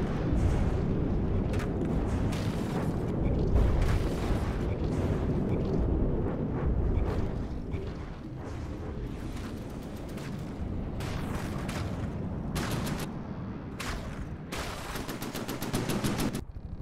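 Missiles in the From the Depths naval combat game fire in rapid volleys and burst into dense, sustained explosions, a loud continuous barrage of cracks and booms with no voices over it.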